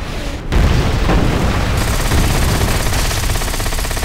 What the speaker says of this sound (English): Use your torpedo rockets on those ships